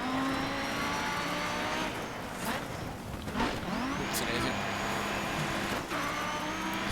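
Rally car engine in the DiRT 3 racing game, droning loud and steady throughout with rev swings, gear-change sweeps and a few sharp bumps, under occasional speech.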